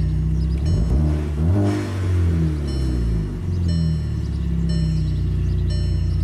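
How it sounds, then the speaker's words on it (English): A car engine cranks, catches and revs up, then settles into a steady, loud running hum with a rising and falling rev early on and a constant rumble after. "Should fire right up once it builds fuel pressure."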